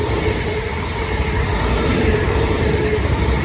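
A South Western Railway Class 450 electric multiple unit pair, 450-077 and 450-002, running toward London Waterloo near Battersea Park and Clapham Junction, gives a steady, loud, close rumble of wheels on rail throughout.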